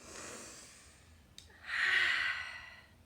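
A quiet circle-time exhale at a preschool: a soft breath out fades away, followed after a brief tick by a longer, louder airy sigh of deep breathing, close and without talk.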